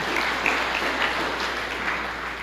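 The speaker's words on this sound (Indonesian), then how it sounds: "Berikan tepuk tangan yang meriah buat Tuhan." A church congregation applauds for God during a Christian sermon, a steady wash of clapping at moderate level throughout, with no voices standing out.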